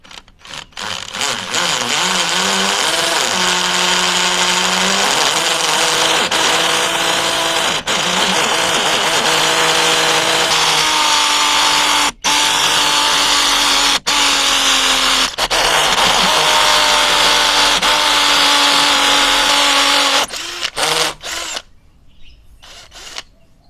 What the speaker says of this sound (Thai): ถ้าหากว่าสามารถเจาะเสาปูนที่มีความแข็งขนาดนี้ได้